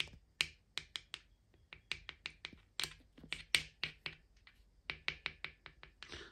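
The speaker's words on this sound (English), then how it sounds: "So let me get this screw here and tap on this." A metal screw taps lightly and rapidly on a non-metallic wheel, producing dozens of sharp, dull clicks in uneven bursts, close by and quiet, with no ringing.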